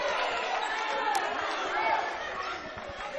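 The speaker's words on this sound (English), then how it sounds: "Crowd doesn't like it. Listen to this crowd." A girls' high school basketball crowd in a gym breaks into a broad, sustained murmur of disapproval and chatter after a walking call, while a commentator speaks over the noise.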